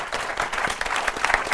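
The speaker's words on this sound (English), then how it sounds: "please join me in giving a round of applause to our panelists." An audience applauds panelists at the end of a session on inequality and fiscal policy, a steady round of many hands clapping, moderately loud and continuous with no voices over it.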